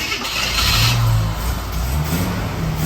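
Old AMC Eagle engine cranks, catches and revs up, a loud continuous mid-pitched roar that swells and dips while idling close by, with no talking.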